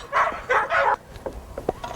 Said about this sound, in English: there's 2 times that your sled dogs are really, really noisy